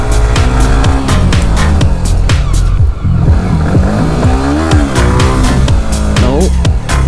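A Yamaha R15 V3 motorcycle ridden in the Morni Hills revs hard during a wheelie attempt, its loud close engine rising and falling through repeated throttle blips under strong wind buffeting.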